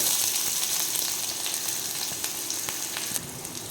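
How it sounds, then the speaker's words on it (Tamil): Onions hit hot oil with mustard seeds and curry leaves, a loud, constant sizzle and crackle close up with faint stirring ticks and no talking. "அப்புறம் நம்ம வெட்டி வச்சுருக்க வெங்காயத்தை போட்டுக்கோங்க."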